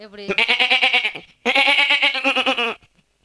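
A goat in a rural village bleats twice in quick succession, two loud, close, wavering calls separated by a short pause, alone without talk.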